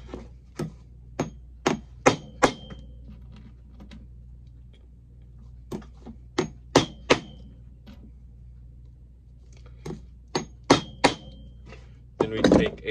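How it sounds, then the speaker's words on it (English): Sharp metal-on-metal hammer strikes drive a punch to countersink threaded tapered-head nails into the sole of a 30-year-old Nocona snakeskin boot, coming in close, loud clusters of three to five blows separated by pauses. "Then we take a punch and countersink them."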